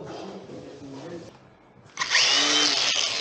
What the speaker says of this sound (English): Here we're gonna need the grinder.